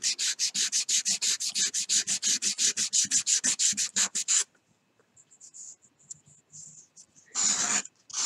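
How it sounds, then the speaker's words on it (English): Rapid rhythmic rasping of sandpaper rubbed back and forth on a hand-carved wooden fishing lure, about twenty close strokes, then a pause with faint scrapes and a short final burst. "The sandpaper's taking it right down to that level."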